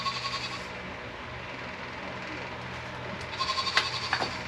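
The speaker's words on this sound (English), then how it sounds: "You might can hear our angry goat in the background." An angry goat bleats from its pen in the background, faint and distant at first, then a few louder, sharper calls rise near the end over steady outdoor ambience.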